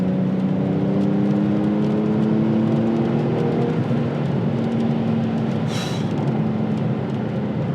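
A Porsche 911 Turbo pulls hard at speed, its engine drone climbing steadily in pitch over constant road and wind rush, heard from inside the car, with a brief hiss of air partway through.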